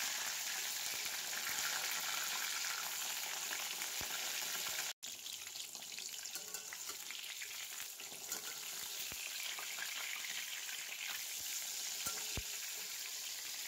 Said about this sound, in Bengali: এইভাবে উল্টে পাল্টে কিন্তু বেগুনগুলো আমি একটু লালচে করেই ভেজে নেব।